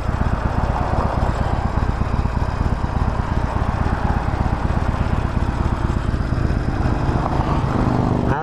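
A Harley-Davidson 48 cruiser motorcycle rumbles while riding on a highway, its engine giving a loud, continuous throbbing drone with rapid low pulsing throughout, steady from start to finish.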